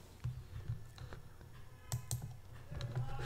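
Close computer keyboard typing as a template name is entered in trading software, with irregular clusters of sharp key clicks and brief pauses between bursts.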